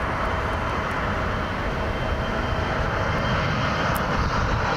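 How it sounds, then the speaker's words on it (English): A United Express Embraer E-jet departs from Columbus airport, its jet engines giving a loud, steady, broadband roar that holds constant throughout, with no voices. "Got all three of them sending their E-jets over here for departure. It's the United Express."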